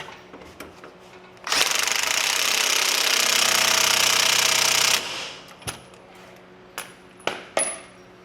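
A power tool runs an axle nut down on a 1997-2008 Corvette during rear wheel bearing installation, one loud steady whirring burst of about three seconds, followed by scattered metallic clinks and knocks.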